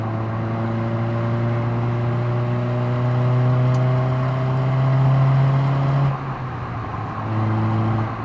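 A 2007 Honda Fit GD3 engine drones steadily in the cabin, its pitch rising slightly before a brief dip and quick rev blip during a heel-toe downshift, then settling again.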